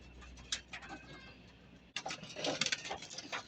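Racing pigeons cooing and pecking at feed after a 90 km training flight from Lucena, with soft coos and light pecking taps close by that grow busier and louder in the second half.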